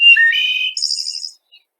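A recorded songbird gives a short clear whistled phrase. It opens with a few low notes, rises into a higher trilling run, and ends with a faint final chirp, alone against silence.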